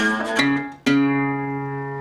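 Country blues slide guitar lick on acoustic guitar, a couple of plucked, sliding notes that ring out and sustain, close and moderately quiet, no voices.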